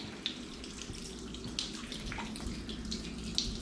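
Water leaking and trickling from a clogged apartment sink backing up with raw sewage, a faint steady running flow with occasional soft drips and splashes, quiet and close with no talking.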